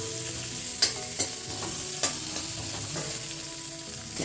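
Ginger, garlic and green chili paste sizzles steadily in a pan for a green chicken gravy, with a few sharp spoon scrapes and clinks from stirring standing out over the frying.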